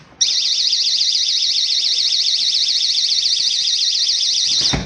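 A GE personal security window and door alarm goes off abruptly and holds a loud, piercing, rapidly warbling electronic tone without pause until it cuts out at the very end.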